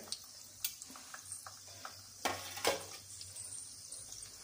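Mustard seeds, chana dal, urad dal and cashews crackle in hot oil for pudina rice, with faint steady sizzling broken by sharp pops and a couple of louder spoon scrapes against the pan.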